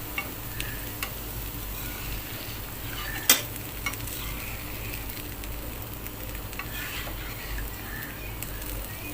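A high-fat dosa sizzles faintly on a hot pan while being turned over, with a sharp clack of the spatula midway and a soft steady frying hiss throughout, no talking.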